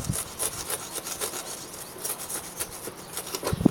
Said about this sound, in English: just taking a stick and just chiseling